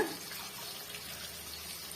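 Water runs and swishes steadily for a couple of seconds, a soft continuous rinsing sound close by, as a mixer grinder jar is rinsed out while cooking potato egg gravy.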